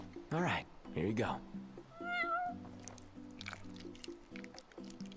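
A cat in the game Final Fantasy XV meows a few times while eating, with short wet chewing and squishing sounds between the calls, quiet and close.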